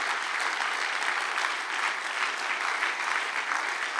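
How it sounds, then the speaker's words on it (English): Congregation clapping hands together during a church worship service, a dense, steady wash of applause that continues evenly and fairly loud throughout, with no talk over it. "let's clap our hands to the Lord this morning"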